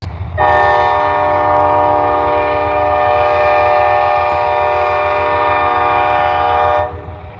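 A freight train bound for a grain elevator rumbles close by with a long, loud, steady horn blast held for several seconds over the low rolling of the cars.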